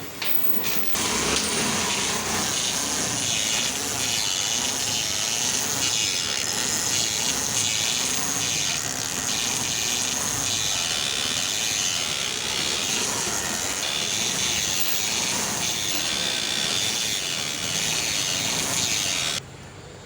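A TVS Star City motorcycle with a faulty kick shaft gives off a continuous, harsh mechanical whirring rattle that runs steadily for about eighteen seconds and then cuts off.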